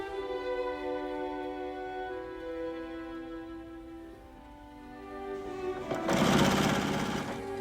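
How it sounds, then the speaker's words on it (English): Quilt fabric is stitched on a sewing machine, a steady mechanical whir running for several seconds and then swelling into a louder, brighter burst of fast stitching near the end, with no talking. "take it to the machine, stitch 1/4 of an inch on each side of our drawn line"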